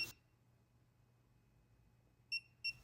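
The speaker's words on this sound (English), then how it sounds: "With the goggles on, hold the button down until it starts beeping." FPV drone video goggles beeping while pairing with a digital micro drone, two short high-pitched beeps near the end after a quiet stretch with faint background hum.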